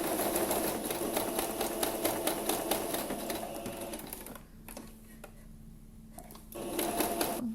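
A sewing machine runs in a steady fast stitching burst as fabric is guided around a curve, then stops briefly while the needle stays down and the presser foot lifts, before stitching resumes loudly near the end.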